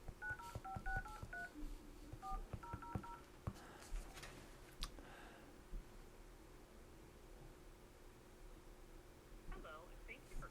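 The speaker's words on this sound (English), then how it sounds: "So let's dial the same number." Keypad tones ring out as a number is dialed on a Panasonic DECT 6.0 KX-TG175C cordless phone, a quick series of distinct dual-tone beeps in two bursts, followed by quieter handling noise and faint talk.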